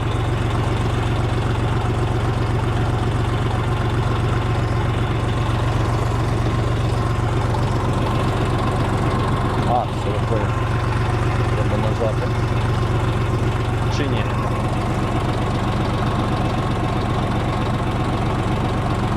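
A DongFeng 244 mini tractor engine idles steadily with a constant low, knocking diesel rumble and vibration throughout, loud and close, with no spoken words.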